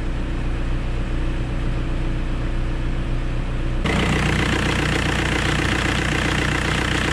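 Diesel engine of a 2003 VW Beetle TDI idles with a steady, loud, close clatter and rumble that grows even louder and denser midway, with no talking.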